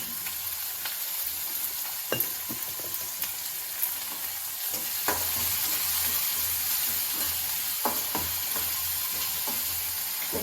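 Sliced onions fry steadily with dried red chillies and salt in hot oil for a potato masala, giving a continuous close sizzle. Faint stirring clicks sound at intervals and no one speaks.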